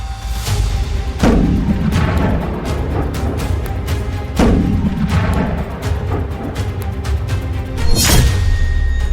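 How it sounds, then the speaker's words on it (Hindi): Tornado rocket strikes hitting Vovchansk in wartime Ukraine, with three heavy booming blasts spaced a few seconds apart, each a sharp crack followed by a long rumbling roll, loud and continuous with no speech. "वोल्चांस्क में टॉर्नेडो रॉकेट से धमाका।"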